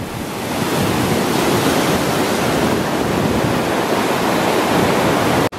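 Rushing water of Eagle Creek in Oregon, a loud, steady broadband roar that holds unbroken for several seconds, close by with no talk, then cuts off abruptly at the end.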